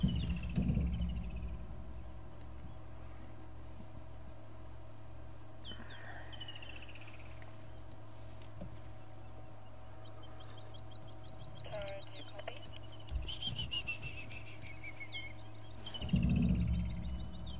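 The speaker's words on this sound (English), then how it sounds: "there's that bird" A bird calls a few times at Gowrie Dam over a steady low outdoor hum, with brief chirps scattered through the quiet and a louder rustle near the end.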